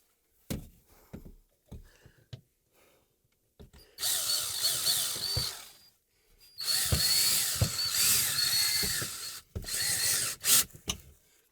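A power drill drives a screw into a cable hanger bracket in a studio shop, with two sustained whining bursts of motor and screw grinding separated by clicks, taps and pauses.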